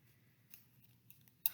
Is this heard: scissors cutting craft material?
yes